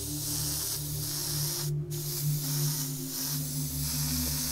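Continuous steady hiss of an airbrush spraying paint onto cardboard, close and even throughout with a brief pause midway, over a low background hum and no talk.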